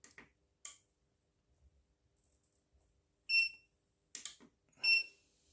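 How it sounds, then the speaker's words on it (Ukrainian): Short electronic beeps from an EcoFlow Delta portable power station under repair, which is not charging: a few isolated chirps early on, then three louder beeps near the end, in an otherwise quiet room. "Так, щось там зашкварчало і пипикнуло."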